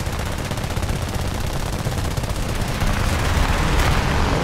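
Sustained aircraft machine gun fire in War Thunder air arcade, playing a J6B fighter, a dense continuous rattle of rapid shots layered over steady engine roar, loud and close throughout.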